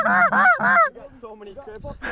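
Canada geese honk loudly and close during an early-season goose hunt in North Dakota, three strong rhythmic calls in quick succession, followed by softer scattered honks and faint murmuring voices.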